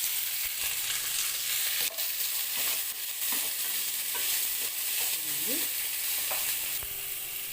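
Okra frying in a pan with onion, green chilli and curry leaves gives a steady broad sizzle, with occasional scrapes and knocks as it is stirred, close and fairly quiet.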